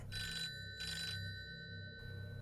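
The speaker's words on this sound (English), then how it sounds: "that damn phone would ring" A telephone rings at night in two bright, trilling bursts, each about half a second long and separated by a short pause, over a low, murky background drone.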